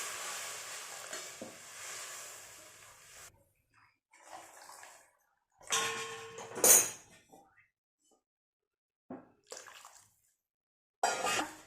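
Hot water poured into a pan of curry in a village-style kitchen, heard as bursts of splashing and hissing broken by quiet gaps, with some clinks from pots and utensils and no voices.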